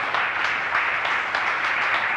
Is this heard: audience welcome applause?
yes